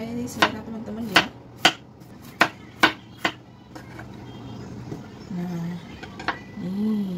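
Raw chicken being chopped into large pieces for curry, about seven sharp knife strikes on a board in an uneven rhythm, followed by quieter handling noise and low hums.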